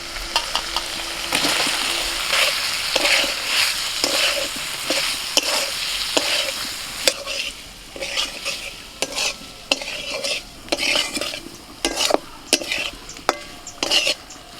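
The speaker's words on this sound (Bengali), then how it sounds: "এবার মান ভাজাগুলো দিয়ে দেবো।" Fried taro pieces are stirred into sizzling masala in a pan, a continuous frying hiss broken by repeated scraping and clattering strokes of a spoon that grow sharper and more spaced toward the end.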